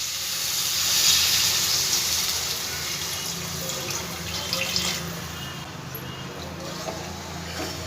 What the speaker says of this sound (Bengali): এবার পরিমাণ মতন আমি জল দিয়ে দিলাম।